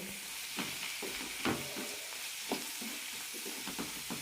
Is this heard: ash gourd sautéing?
yes